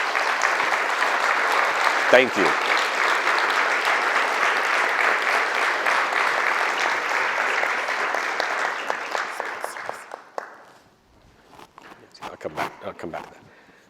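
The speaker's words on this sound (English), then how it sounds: "big, huge round of applause to everybody." An audience applauds at an event's closing remarks. The loud, dense clapping holds steady for about ten seconds, then fades out, and a speaker briefly talks into the quiet afterward.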